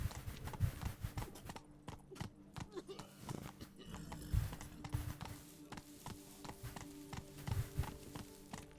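Hooves of Roach, a horse in The Witcher 3: Blood and Wine, clip-clop at a walking pace in an irregular, close rhythm over ambient game background.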